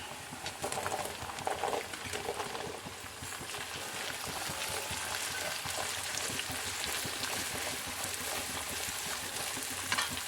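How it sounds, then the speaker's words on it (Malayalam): Small onions fry in a pan for a beef liver fry, with a steady close sizzle, some bubbling and a few stirring scrapes early on, fairly quiet and with no talking. "ഇനി നമുക്ക് ചെറിയ ഉള്ളി ഇട്ട് കൊടുക്കാം"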